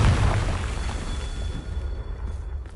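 A Confringo blasting spell explodes in the Hogwarts video game: a loud, booming burst at the start that rolls into a rumbling, crackling tail and fades over a couple of seconds, with no talking.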